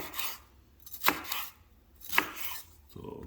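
A kitchen knife cuts food lengthwise on a board: a few sharp, close chops with soft scraping and rubbing strokes between them, with no talking.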